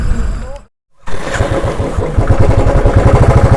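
Motorcycle on a solo ride from Katra to Patnitop, weaving through a traffic jam on a mountain road: a loud close engine rumble with rhythmic pulsing after a brief dropout, with someone talking over it.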